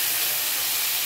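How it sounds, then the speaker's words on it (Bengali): Carrots, beans and potatoes frying in a pan, giving a steady, even hiss of sizzling oil for a brief moment with no other sounds. "ভালো করে এটাকে আরও ভেজে নিচ্ছি।"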